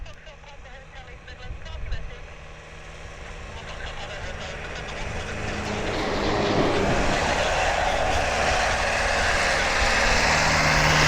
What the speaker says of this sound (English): Just had one of them tractors go by.